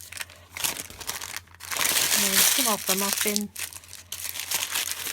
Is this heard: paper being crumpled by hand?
yes